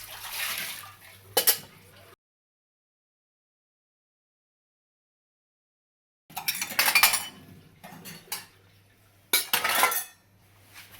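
Dishes, pots and utensils being loaded into a Voltas Beko tabletop dishwasher, with metallic clinks and clatters in short bursts separated by a silent gap.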